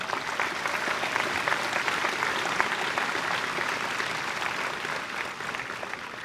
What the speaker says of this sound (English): Join me in a round of applause for our first group.